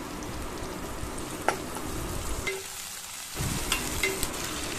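Tomato pieces fry in a pan for tomato rice, giving a steady, close sizzle that drops out briefly near the middle before resuming, with faint stirring clicks and no talking.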